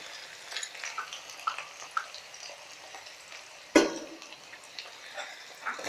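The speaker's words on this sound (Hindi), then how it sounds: "इन सबको भून लेंगे।" Chopped onion and green chili frying in a pan with mustard seeds, a soft steady sizzle with light stirring scrapes and one sharp clatter of utensil on pan midway.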